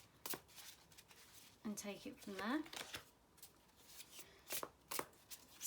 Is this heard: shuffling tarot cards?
yes